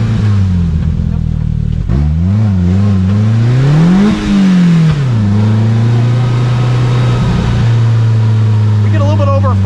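A Slingshot three-wheeled car's engine while driving, heard close and loud as a continuous drone that rises and falls with revving and shifting, then settles to a steadier hum.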